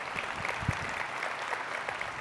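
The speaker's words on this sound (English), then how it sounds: "The program committee, these folks also need a round of applause." Applause from a keynote audience at a large data streaming conference, a steady wash of clapping that carries on evenly throughout with no voices above it.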